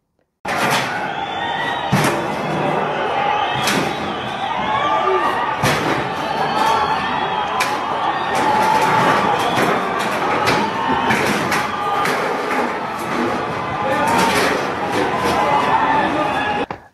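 Repeated heavy bangs and thuds of a shirtless man smashing dustbins during a street protest, a dense crowd clamour and shouting running loud and continuous beneath the hits.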